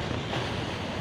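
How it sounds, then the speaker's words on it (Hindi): Rough, turbulent river water churning at the meeting of two streams, a dense continuous roar and wash at close range, heard on its own. "बाकी अभी पानी बहुत जोश में"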